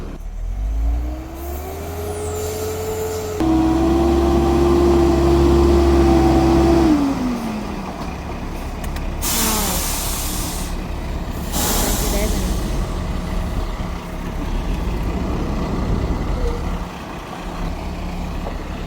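Cars and trucks sit in a traffic jam on a narrow, curving road out of town toward Thailand. A steady engine rumble runs throughout, with a long sustained rising tone, bursts of hiss and occasional voices.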